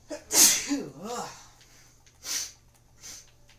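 A loud, close human sneeze with a voiced wind-up, followed by quieter breathy exhales and sniffs.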